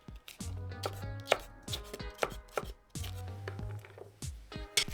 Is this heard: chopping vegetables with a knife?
yes